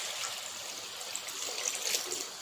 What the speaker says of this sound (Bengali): আমি জলটা দিয়ে দিচ্ছি।